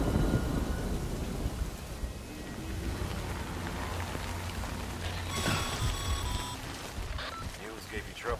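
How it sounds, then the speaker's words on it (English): Steady rain hisses in the Death Stranding video game, with low rumbles of distant thunder beneath it and a brief brighter swell of sound partway through. "Good thing it was raining."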